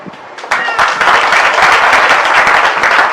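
Villagers at a political rally in Thana Gujran, Pehowa, break into loud, close applause, a few scattered claps first, then a dense burst of many hands clapping that holds steady to the end.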